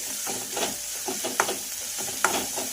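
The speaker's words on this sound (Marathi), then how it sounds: "तर छानपैकी असा मसाला आपल्याला फ्राय करून घ्यायचा आहे" Masala frying in a pan for a Vidarbha-style turichya ghugrya dish, a constant sizzle under repeated scraping stirs with a couple of sharp clinks, close and steady, no talk.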